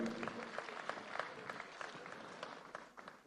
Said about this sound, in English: Let's give him another applause for doing very well